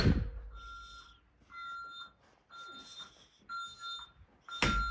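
A Honeywell Vista 15P alarm panel sounds its entry delay with a series of sharp, high electronic beeps in short bursts and pauses, heard nearby in a quiet room.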